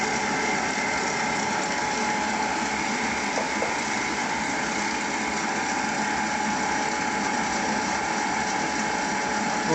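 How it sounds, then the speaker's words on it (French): An electric mixer beats cake batter in a steady, continuous whir with a rattling mechanical edge that runs unbroken and close, with no talking. "Moi je le fais au batteur parce que ça va plus vite"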